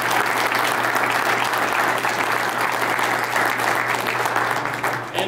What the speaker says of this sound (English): So let's give Keith a big round of applause.